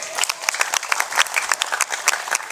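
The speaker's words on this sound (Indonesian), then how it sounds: "Tepuk tangan dulu ini." Audience applause fills a Hindu dharma talk on religious tolerance: dense, steady clapping from a seated crowd, fairly close and lively, with no speech over it.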